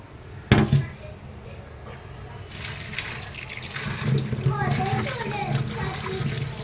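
Dates being washed under a running kitchen tap, starting with a sharp clatter and followed by a steady splashing stream that grows louder, while people talk nearby.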